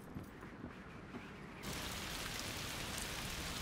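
Steady rainfall in the video game A Plague Tale: Requiem hisses throughout, growing abruptly louder and denser about halfway through into a heavy, even downpour.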